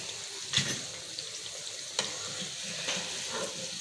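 Potato snacks made with a little rice flour fry in hot oil, giving a steady soft sizzle with a few faint clinks and stirring taps, no voices.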